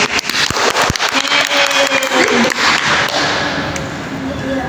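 Classroom applause for a student during a group guidance session, a dense run of hand claps and taps at close range, steady and fairly loud for several seconds, with faint voices mixed in.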